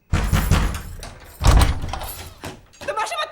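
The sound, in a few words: door being forced open in film scene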